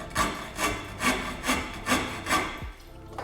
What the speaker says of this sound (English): This is called a RASP. A RASP is meant to take a lot more wood off in a little amount of time.